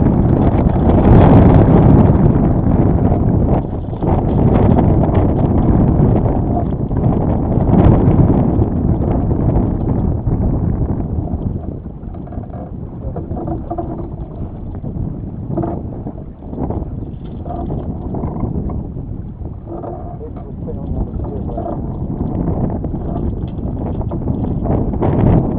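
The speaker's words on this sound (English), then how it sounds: "Then I see a big gust coming and I let out the main in anticipation of the gust." Strong wind gusting while out sailing a boat, a loud continuous roar of wind buffeting across the whole stretch, easing slightly midway then building again, with no talk.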